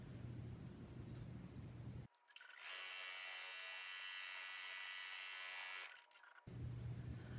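An embroidery machine stitches the placement line for an in-the-hoop face mask, a faint, steady mechanical buzz that starts abruptly, runs for about four seconds and then stops in a quiet room.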